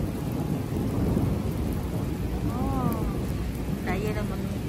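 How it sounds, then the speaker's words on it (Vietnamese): Heavy rain pours steadily with a low rumble of thunder rolling underneath, during a downpour in Germany; a brief voice and a faint tonal sound surface near the end. "Đó, trời rầm đó cả nhà."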